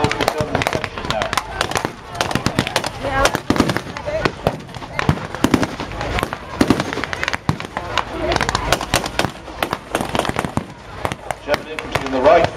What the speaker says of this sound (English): German infantry in the right front, now heavily engaged, putting up a small arms fire